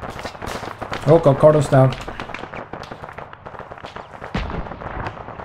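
Enemy gunfire in an ARMA battle at an airfield: a rapid scatter of sharp cracks and bursts, some near and some farther off, runs beneath someone talking urgently.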